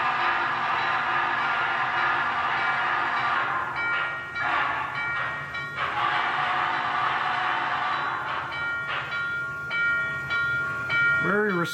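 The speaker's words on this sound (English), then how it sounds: "Very responsive whistle functions." An MTH HO scale model of the 611 Class J steam locomotive with Proto-Sound 3.0 chuffs along steadily while its whistle sounds in several short toots, with a brief rising warble near the end.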